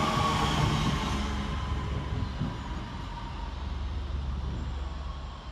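A Class 158 diesel train, unit 158858, rumbles steadily alongside a platform at Stockport railway station, a low continuous roar of wheels and engine with faint higher rail noise, fairly close and fading slightly.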